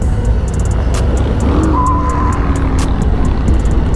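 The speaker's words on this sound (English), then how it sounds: "I don't know who keeps burning rubber." Tires squeal steadily over a loud engine and road noise while riding a 2021 Harley-Davidson Heritage Classic, the long screech sounding nearby and unbroken with no voices.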